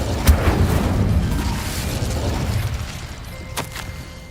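The Incendio fire spell in Hogwarts Legacy sets off a sharp burst followed by a rolling, roaring blast that fades over several seconds, ending in a faint tonal ring.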